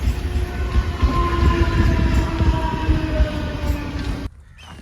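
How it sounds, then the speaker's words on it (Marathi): A train rumbles past close by in Vashi, Mumbai, loud and continuous with a faint whine on top, then the noise suddenly cuts off. "इकडे दुसरी ट्रेन आली"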